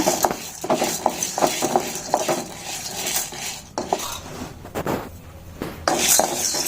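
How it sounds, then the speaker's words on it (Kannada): Chana dal dry roasted in a pan without oil makes repeated scraping and rattling stirring strokes, close and fairly loud, with no talking. "ಆಯಿಲ್ ಇಲ್ದಂಗೆ ಡ್ರೈಯಲ್ಲಿ ಹುರ್ಕೊಳ್ಳೋಣ ಸ್ವಲ್ಪ ಕೆಂಪಗಾಗೋ ಥರ"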